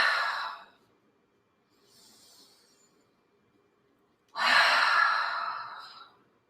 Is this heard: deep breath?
yes